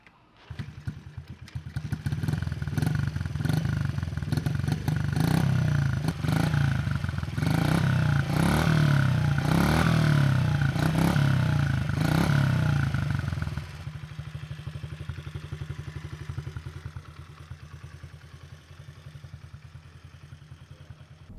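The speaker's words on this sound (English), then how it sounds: "let's start this little cold-blooded bike up and see what it sounds like" A 2022 Honda CRF50F 50cc dirt bike engine starts cold and revs up and down in a loud, buzzy burst for about twelve seconds, then settles into a quieter steady idle nearby.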